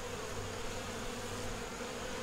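Bees being brushed off a frame to go back into the hive make a continuous, even drone, low in level and unbroken across the moment, with no talk.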